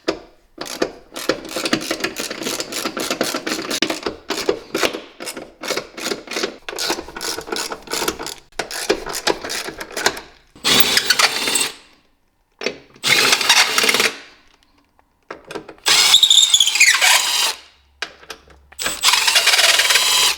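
Power driver with a T40 bit backing out the bolts of a custom strut tower bar on a C8 Corvette Z06, heard as several separate loud whirring bursts with short pauses between them, no talking.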